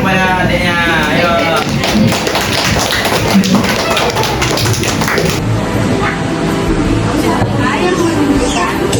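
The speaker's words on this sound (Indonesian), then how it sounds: "Beri tepuk tangan kepada adiknya" Children give a round of quick, sharp claps for a younger student, the dense patter strongest early then thinning, with kids' voices talking over it.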